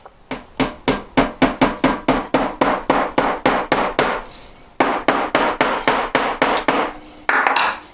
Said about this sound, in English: And I literally hammer it in.